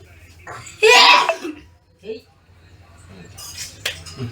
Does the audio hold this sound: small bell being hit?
no